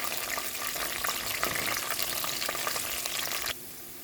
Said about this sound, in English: Fry until our nuts turns into golden brown.